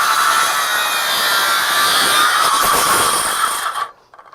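A RIDGID R8656 18V sub-compact brushless 6-1/2 inch circular saw cuts through wood at a 2-inch depth of cut, a loud close rasping whine that runs continuously before the blade exits and it tapers off.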